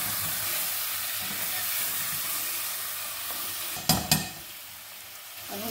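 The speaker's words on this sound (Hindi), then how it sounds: "लहसुन अदरक डाल के इसको अच्छी तरीके से भूनें।" Chicken frying with garlic and ginger paste in a pot, a steady close sizzle and hiss throughout, broken by a couple of sharp scraping clanks of a spoon stirring near the end.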